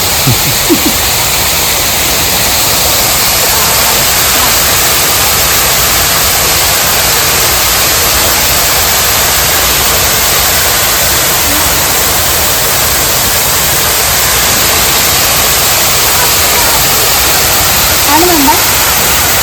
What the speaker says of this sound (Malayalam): നമ്മുടെ മുംബൈയിലെ വെള്ളച്ചാട്ടം